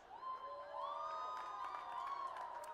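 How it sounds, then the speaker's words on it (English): A live stage-show audience cheers and whoops, with high, wavering shouts and whistles layered over a steady crowd roar. It sounds fairly faint and distant and continues without a break. "you will go crazy with applause."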